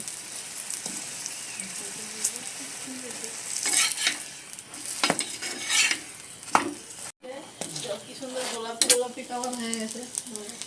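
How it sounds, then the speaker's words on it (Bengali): A stuffed paratha frying in oil on a tawa, heard as a steady close sizzle with spatula scrapes and clinks, plus bursts of louder crackling as it is pressed and turned. "এরপর আমি তেল দিয়ে ভালো করে ভেজে নেব"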